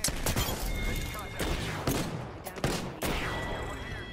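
Rapid bursts of gunfire in Apex Legends Bangalore gameplay, several volleys and single cracks in quick succession, loud and close, with a voice talking over parts of it.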